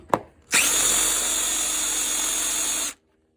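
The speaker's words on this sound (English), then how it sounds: "I got both of those hills drilled." A power drill with a dull bit bores a hole for Miata hardtop side strikers in one loud, continuous whirring run of about two and a half seconds. A brief click comes before it and silence follows.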